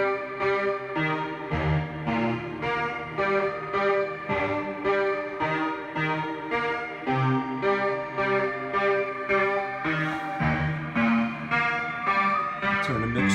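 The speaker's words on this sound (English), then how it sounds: "Add some of that chorus again, some reverb." Layered synthesizer pattern repeating steadily, thickened by chorus and washed in reverb, with a rhythmic pulse throughout and no voices.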